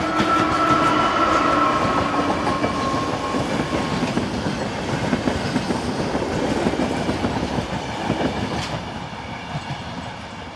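A Slovakian Railways train hauled by electric locomotive 361107 rumbles steadily past on the Tatra Mountain route, loud and close, with rhythmic clattering of wheels and a faint squeal.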